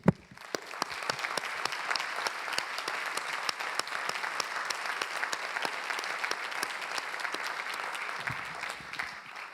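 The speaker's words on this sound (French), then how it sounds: "Et je pense qu'on peut applaudir Maria." An audience at an art lecture by Michelangelo Pistoletto applauds, a dense and steady round of clapping from many hands in a hall that carries on throughout before it tapers slightly at the close.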